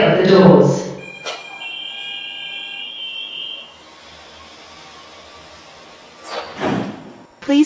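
An airport transit train sounds a sustained warning tone as its doors close, then a firmer thud of the doors shutting near the end, with a recorded announcement voice at the start.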